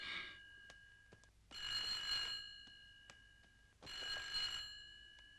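An old telephone bell rings in three separate bursts, a brief one, then two longer trills with pauses between them, fairly faint in a quiet room.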